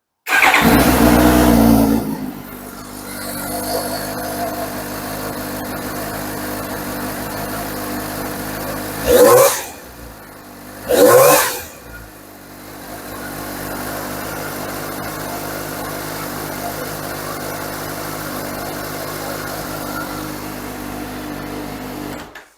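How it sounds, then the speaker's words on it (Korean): A Suzuki S750 four-cylinder motorcycle with 14,900 km fires up with a loud burst after sitting two days, then settles into a steady idle, with two brief revs partway through. "한 이틀 만에 시동 걸어도 이렇게 일반 시동 잘 걸리고요"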